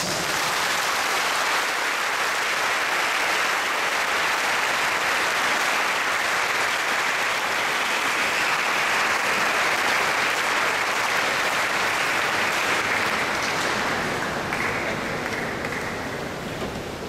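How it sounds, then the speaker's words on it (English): A congregation applauds at a Catholic priestly ordination, a dense, even roar of clapping filling a large church, sustained at full strength before easing slightly at the end. "As a sign of our approval, let us give our candidates for the sounding applause"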